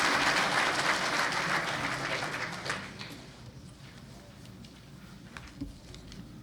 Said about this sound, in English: just by the applause